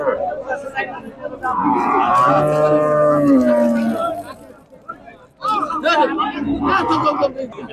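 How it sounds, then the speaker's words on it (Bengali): Cattle at a busy livestock market moo loudly and nearby in one long drawn-out call, followed by crowd chatter and bustling voices of buyers and sellers. "এই গরুগুলো বিক্রি হয়ে গেছে, চলে যাচ্ছে।"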